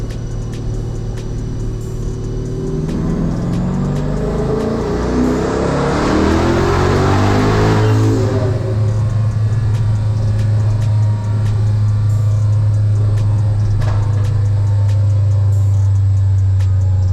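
A 1000-horsepower Dodge Hellcat engine on an 18-pound boost run roars loudly, holding a deep idle, then climbing sharply in pitch to a screaming peak before settling into a sustained heavy drone.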